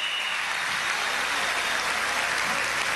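Applause from a crowd at an outdoor Venezuelan government youth agricultural-program event, honoring children, heard as a steady, fairly distant wash of clapping at moderate volume.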